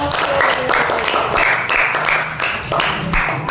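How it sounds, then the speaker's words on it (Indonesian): Hands clapping in applause from a classroom group, bursts of dense claps repeating across the moment, fairly loud and close, with some voices mixed in. "Selanjutnya, tepuk tangan."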